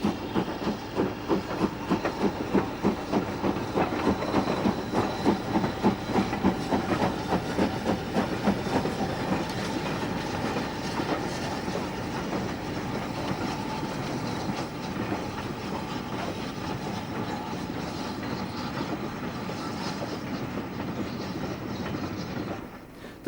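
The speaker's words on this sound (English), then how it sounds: "The train left the sidings headed by a BR standard tank number 80080." A steam train headed by a BR Standard tank locomotive, number 80080, pulls out of sidings on the Southern, its chuffing exhaust beating steadily at first before settling into a continuous rolling rumble and clatter of wheels.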